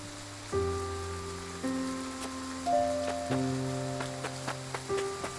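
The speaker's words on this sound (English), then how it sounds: "I doubt the rain will let up anytime soon." Steady rain patters in the Triangle Strategy video game under a slow sequence of sustained musical chords, with a few sharper drop-like taps toward the end.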